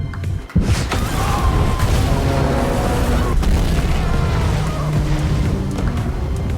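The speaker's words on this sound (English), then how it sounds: "The blast shattered the calm along the banks in an instant." An underwater blast in a river hits suddenly with a deep boom, then a loud roaring rumble of churning water carries on without a break.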